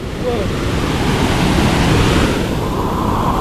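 A flooded river in monsoon rain rushing past, a loud, continuous roar of churning water with a broad, steady rumble and no break, close and dominating.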